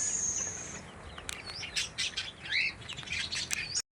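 Pet finches and doves in a cage chirp and tweet with quick, bright calls and short squawks over a faint background hiss.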